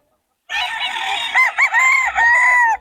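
A rooster crows loudly and close among fighting cocks in Bocaue, a single sustained call with a wavering, rising tail, standing alone without talk.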